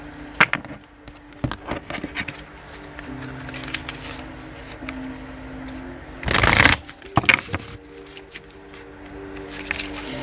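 A tarot card deck is shuffled close by, a brief riffling burst standing out from light handling rustles and taps of the cards.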